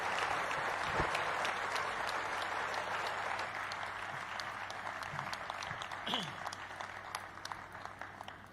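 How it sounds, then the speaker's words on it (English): An audience at an Economic Club event clapping continuously, dense broadband applause that stays strong and slowly tapers off with a few scattered sharper claps toward the end. "they're clapping"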